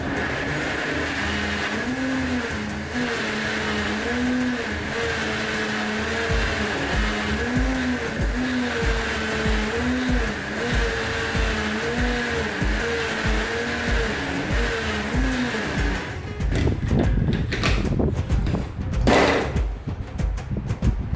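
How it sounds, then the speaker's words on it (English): A blender whirs steadily while grinding ginger into a paste, its motor droning and wavering as the load shifts, then stops, leaving louder clattering and knocking at the end. "So back on the blender. Now this will be harder to blend."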